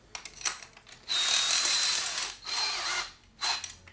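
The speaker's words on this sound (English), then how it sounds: "I'm just going to go ahead and put this on my drill" A power drill fitted with a 10 millimeter socket on carburetor bolts of a Massey Ferguson MF 50 runs in short whirring bursts, one longer burst followed by two briefer ones, close by, with no talking.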